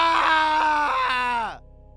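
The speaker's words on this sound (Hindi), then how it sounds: "अंदर से एक भयानक चीख सुनाई दी।" A horrifying, drawn-out wailing scream from inside a haunted mirror in a horror tale, sustained and tonal, sliding downward before cutting off abruptly into silence.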